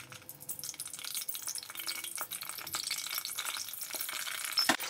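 Brinjal fries in hot oil with a continuous crackling sizzle, punctuated by stirring clatters and small pops, close and growing a little louder near the end.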